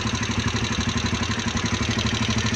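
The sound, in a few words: Rusi Chariot 175 motorcycle engine idling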